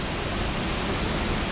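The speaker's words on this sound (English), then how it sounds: "So we're back out at these waterfalls this morning now that I've got my tripod." Rainforest waterfalls roar as a dense, unbroken hiss of falling water, loud and very close, with spray in the air.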